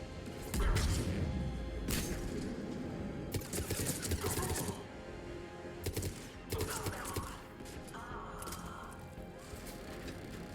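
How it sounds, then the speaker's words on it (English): A grenade blast in the shooter game Mass Effect 3, heard amid dense, continuous combat noise with several sharp bursts of crashing gunfire and impacts, loud and close throughout. "Граната."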